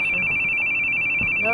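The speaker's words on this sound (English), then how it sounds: "to the sound of my phone ringing" A phone rings with a steady, piercing electronic tone that holds unbroken through the moment, close and fairly loud, while soft voices murmur underneath.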